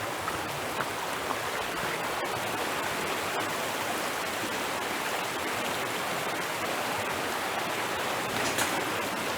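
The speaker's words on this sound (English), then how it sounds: "You really hear it. It's like a rapids, kind of, not like small river rapids." River rapids rush in a steady, dense broadband roar of churning water, continuous and even from start to finish, with no talking over it.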